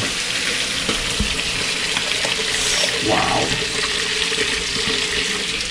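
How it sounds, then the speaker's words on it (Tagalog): A loud rush of broth hits a hot frying pan, bursting into steady sizzling and bubbling close by, with no talking. "Lalagyan natin itong sabaw."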